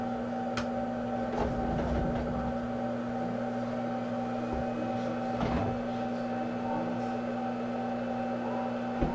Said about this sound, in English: And then we'll turn the printer on.